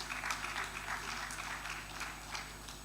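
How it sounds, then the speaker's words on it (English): Moderate applause ripples through the audience at an African agriculture summit, light clapping of fairly even density with a faint steady hum underneath. "Please a round of applause for him."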